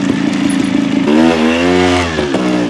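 A touring motorcycle's engine runs while riding downhill, a loud, steady buzzing drone that shifts pitch as it settles into a smoother lower tone, close up with no talk.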